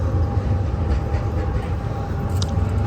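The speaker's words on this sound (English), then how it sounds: "And as that tram pulls out, another one will come right behind it." A Zurich city tram pulling out along its rails at a busy stop, a loud low rumble with steady rolling noise and faint squeal, close by and continuous without speech.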